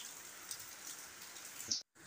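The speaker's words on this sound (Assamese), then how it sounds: "এইফালে বতৰটো চাওক একদম পূৰা আকৌ বৰষুণ ষ্টাৰ্ট হৈ গ'ল" Steady rain falls outside a home kitchen during Assamese lunch cooking, a soft even patter and hiss throughout, with a brief drop-out just before the end.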